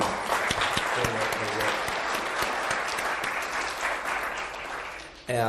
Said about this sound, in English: Let me have a round of applause for